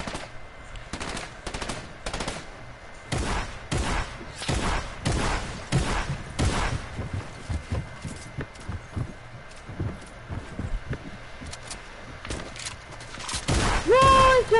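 A proximity launcher firing in a video game, a rapid series of sharp, evenly spaced blasts, fairly close and punchy, ending in a rising electronic tone, with voices in the background.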